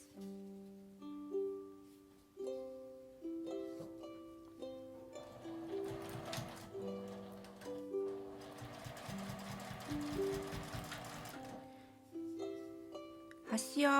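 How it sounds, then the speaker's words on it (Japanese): Sewing machine stitching along the edge of a fabric IC card pouch made from a single piece of cut cloth, with bursts of quick mechanical whirring in two longer stretches over soft background music. "開いて端を縫います。"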